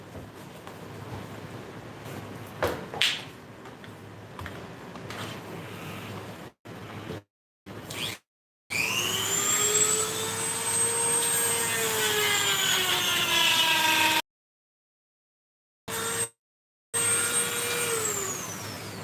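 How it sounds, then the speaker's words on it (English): Dremel rotary tool grinding into a sculpt, a high whine rising and then sagging in pitch as the bit bites, loud and close, broken by brief silent gaps. "When I have to even something off with the Dremel, I normally go straight down into it to my max depth"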